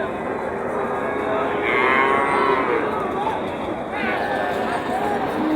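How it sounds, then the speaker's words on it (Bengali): A heifer calf moos twice, long and drawn out, at a busy cattle market in Joypurhat, over a constant din of crowd chatter and voices. "ওই যে বকনা, হ্যাঁ বকনা বাছুর"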